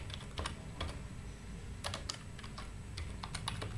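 Crisp, irregular keystrokes on a computer keyboard while entering a formula in Excel, the taps close and clear in brief clusters over low room hum, with no talking.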